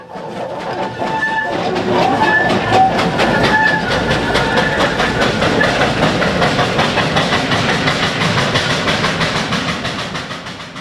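Steam locomotive No. 19, with an 1889 wrought iron boiler and copper firebox, runs light on the Beeches Light Railway, giving a loud, steady chuffing rumble with continuous rhythmic clatter throughout.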